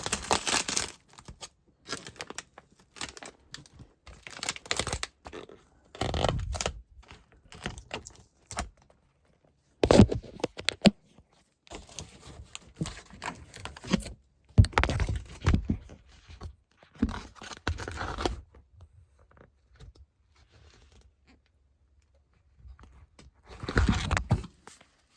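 Tape on the A coil of a York heat pump is cut and pulled open in short, crackly bursts with pauses between them, close by and fairly quiet.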